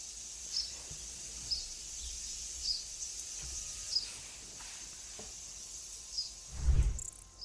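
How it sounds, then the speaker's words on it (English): Faint birdsong: short chirps repeat every second or so behind the steady, high-pitched drone of nearby data centers, with a soft low thump near the end. "there is birdsong."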